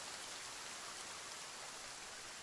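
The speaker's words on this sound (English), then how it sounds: "I love the rain in this game." Steady rain falling in The Forest, a dense, even hiss of drops on surfaces with no breaks and no voices.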